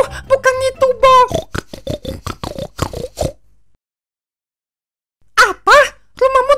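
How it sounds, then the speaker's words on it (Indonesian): Cartoon pig giving a quick run of nasal, squealing oinks, then a pause of silence and a second short burst of oinks, loud and close. "Dia hanya bisa dengar suara babi."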